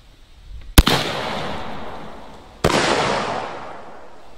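Two loud 12 gauge shotgun blasts from a Zeus firing 1 ounce loads of shot through a Federal Podium wad at a target 50 feet away, a couple of seconds apart, each with a sharp crack and a long outdoor echo tail.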